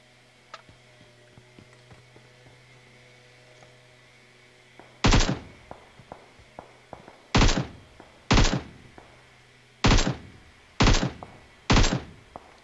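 AK assault rifle fire in PUBG Mobile on the snowy Vikendi map: six loud, sharp single shots or short bursts spaced about a second apart after quiet ticking footsteps, no talking.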